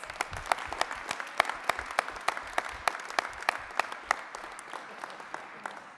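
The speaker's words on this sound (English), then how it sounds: "give him another round of applause" A steady round of applause from an audience honoring a congressman at a Louisville federal grant event, many hands clapping continuously with a few sharper claps standing out near the front.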